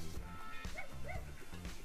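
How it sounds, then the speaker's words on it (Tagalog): Several dogs barking along a wet rural road by the Calinawan River: quick, high yips and woofs in a steady run, mid-distance and fairly faint, with a short whine near the middle, heard over the wind and engine noise of a passing ride. "Daming aso."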